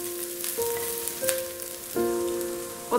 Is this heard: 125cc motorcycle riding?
no